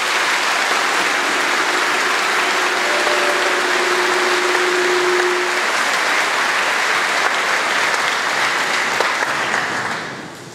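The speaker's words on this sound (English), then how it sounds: "take a moment to give these teachers a round of applause" A graduation audience at a 2015 high school ceremony applauds its teachers in a long, steady wash of clapping from a large crowd that holds full strength for about ten seconds before tapering at the end.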